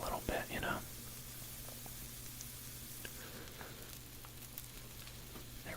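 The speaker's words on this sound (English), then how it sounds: "we got our peppers sizzled down, or sizzled up" Spicy peppers frying in a skillet during a chorizo chili cook, a soft steady sizzle and hiss running throughout, quiet and close, with a brief whispered voice at the start and faint stirring clicks.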